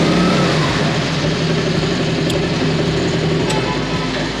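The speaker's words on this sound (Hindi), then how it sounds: "इसके इंजन साउंड की बात करी जाए तो मैं इसको सबसे पहले स्टार्ट कर लेता हूँ।" A Piaggio Ape Xtra LDX CNG and petrol pickup auto-rickshaw idles close by, its small engine putting out a steady, loud low throb with a regular pulsing beat and faint ticks, no voices over it.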